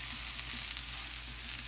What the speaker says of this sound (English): Now it takes about 3 to 4 minutes for the mushrooms to get brown.